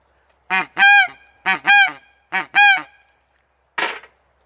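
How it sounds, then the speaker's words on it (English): Three paired honking calls from a handheld goose call in steady rhythm, loud and close, followed by a shorter rough honk after a pause. "the louder call is a goose call."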